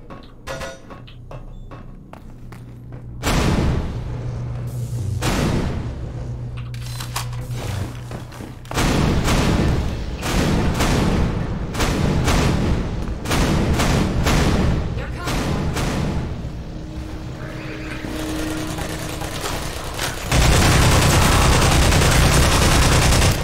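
Sentry turrets blaze away in Half-Life 2, loud bursts of rapid automatic gunfire hammering in repeated volleys with booming impacts, one long stretch of continuous fire near the end; faint speech sits underneath.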